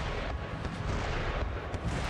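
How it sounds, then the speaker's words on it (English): Foot artillery volleys in Empire Total War, a continuous heavy rumble of cannon fire and battle noise, dense and steady throughout with no clear separate blasts. "Another volley from my foot artillery, and we will make a breach."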